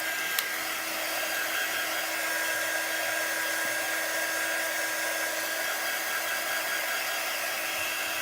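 A hair dryer runs continuously at close range to dry a thin layer of stencil paint, giving a steady whooshing blow with no change in pitch or loudness and nobody speaking.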